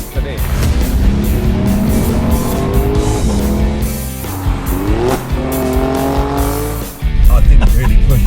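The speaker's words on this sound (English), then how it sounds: "This is how a car should sound." A Toyota Corolla engine revs and drives hard with rising and falling gear pitches, loud and close, alongside tire squeal. Voices talk over it throughout.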